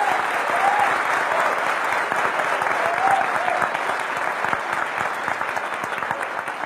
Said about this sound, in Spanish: Denle otro aplauso a Luigi.